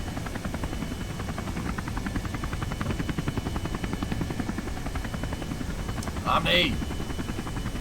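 A rocket engine in Kerbal Space Program throttles up into a steady, dense roar that holds at full strength throughout, with a voice calling out briefly near the end.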